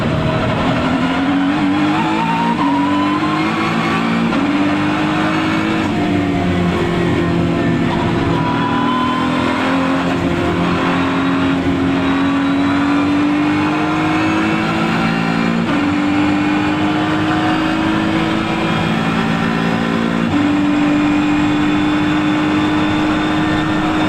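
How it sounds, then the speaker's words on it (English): A Ford GT MK4 race car engine roars continuously at high speed around the Nürburgring, its pitch rising and falling through gear changes and corners, loud and close. "The GT MK4 glides over the ring's brutal curves at speeds that would break a normal car's axle."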